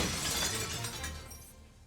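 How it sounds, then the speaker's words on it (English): Mosaic glass window of an eighth-century church smashing in the game Girls Frontline: a loud, bright shattering crash with tinkling shards that trails off over about two seconds. "she smashes one of the mosaic glass windows in the second floor and jumps out"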